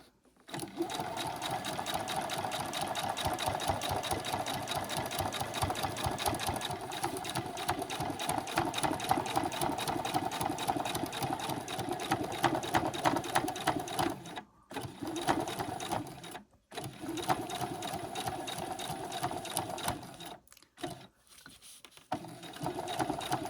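Sewing machine stitching backpack straps with foam padding, running in a loud continuous mechanical whir with a rapid needle rhythm, broken by a few short pauses near the end.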